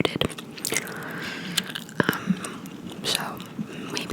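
Gum is chewed close to the microphone with wet smacks, squishes and crisp bites, interspersed with soft whispered talking in an intimate ASMR recording.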